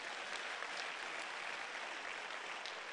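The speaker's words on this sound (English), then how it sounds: "Clap your hands if this is making sense to you." Church congregation applauding during a sermon, a dense steady roll of many hands clapping for the full stretch, loud and continuous with no talk over it.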